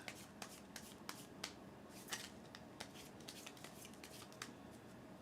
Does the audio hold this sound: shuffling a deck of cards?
yes